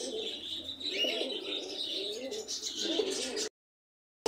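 White Pomeranian pouter pigeons, a male and female pair at a pigeon market, coo steadily through most of the few seconds, close and moderately loud, with a brief silence near the end.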